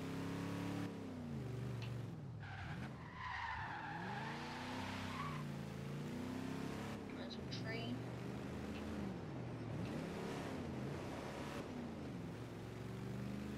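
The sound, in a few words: car driving and tire squeal in video game Forza Horizon 3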